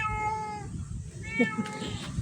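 A cat meows close by, a drawn-out cry followed by a shorter one, over a low background rumble.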